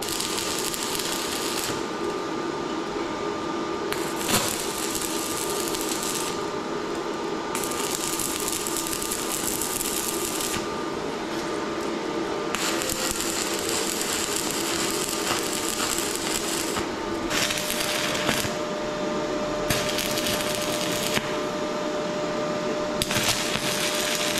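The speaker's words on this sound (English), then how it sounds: "till we get this welded" Welding crackles in repeated bursts of harsh, hissing buzz a few seconds long, separated by short quieter gaps where a steady mechanical hum continues, loud and close throughout.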